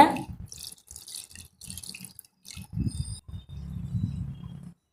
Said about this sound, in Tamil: நிறைய தண்ணி விட்டு அலசுங்க